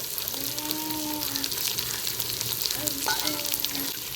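Coriander and mint being stirred into a frying paneer pulao base of softened tomatoes, a steady close sizzle with scraping stirs and a faint voice or tonal sound in the background.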